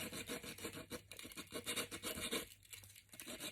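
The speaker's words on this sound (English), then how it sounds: "and lightly sand" The edges of a cured resin art piece are being lightly hand-sanded, heard as close, quiet rhythmic rasping strokes in quick back-and-forth bursts with short pauses between.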